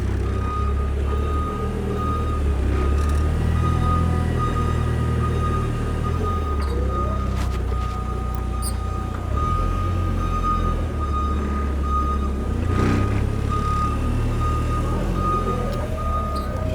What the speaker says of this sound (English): now you got that backup alarm.